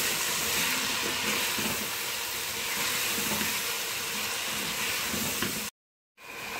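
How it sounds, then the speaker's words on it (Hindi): Potatoes frying with spices in a pan for a chana pulao, giving a steady, close sizzle and hiss that runs continuously with no talking before a short dropout near the end. "अब आलू को इन मसालों के साथ फ्राई करेंगे।"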